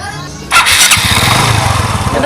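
A motorcycle engine is kick-started and catches at about half a second, then runs at a loud, steady idle close to the microphone.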